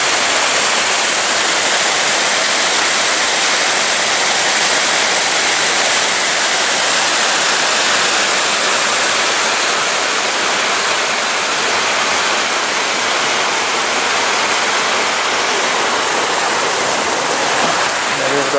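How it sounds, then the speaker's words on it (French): A pretty stream flowing through the grounds of an abandoned Belgian estate, rushing loudly and steadily like a small waterfall, a dense continuous wash of water noise close by for the whole stretch with no voices. "Joli ruisseau d'ailleurs."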